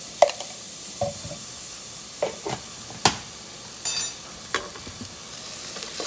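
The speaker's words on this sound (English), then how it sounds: "These onions have been cooking here for about 5-7 minutes or so." Onions and garlic sautéing in a pan under a soft, steady sizzle, broken by several sharp scrapes and clacks of a utensil stirring them at irregular intervals.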